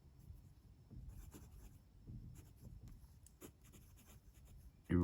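A Lamy Safari fountain pen with a steel medium nib moves across paper in soft, continuous scratchy strokes with small pauses, close and quiet.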